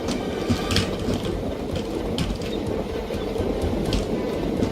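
A real train, its steady broadband rumble and rattle continuing throughout with faint metallic clicks, fairly loud and close, with no voices.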